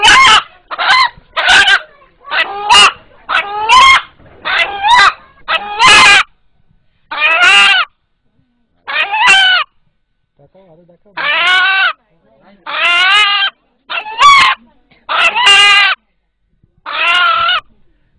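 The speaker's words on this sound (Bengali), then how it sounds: "এখানে উপস্থিত যারা এই মোরগের ডাক শুনলেন" An 8-month-old rooster crows repeatedly and loudly, long harmonic calls separated by short pauses, with a few brief clucks in between.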